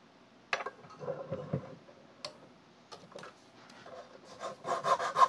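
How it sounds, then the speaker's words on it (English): A handmade knife is sanded by hand after glue cleanup, giving dry, uneven rubbing and scraping strokes with small ticks between them, close by, and growing quicker and louder toward the end. "More sanding."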